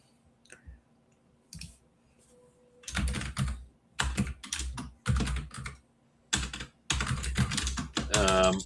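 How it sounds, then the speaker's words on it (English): Fast, furious typing on a computer keyboard, close up: bursts of rapid clicking keystrokes separated by short quiet gaps, growing denser toward the end. "You're typing furiously."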